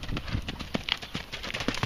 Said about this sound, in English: You're on a big jumping horse.